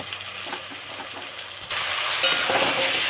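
Cut potatoes hit hot oil already browning onions and tomato, and the steady sizzle jumps louder and brighter halfway through, with a crackling burst just after, close up and with no voices.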